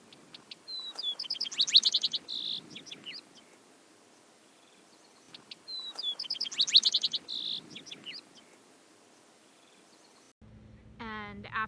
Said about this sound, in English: we actually play the bird's song such that it thinks there's an intruder in its territory